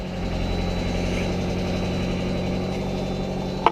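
Mazda Miata engine running at a steady idle after sitting for about two weeks, a continuous low rumble with even pulsing and a brief sharp click near the end.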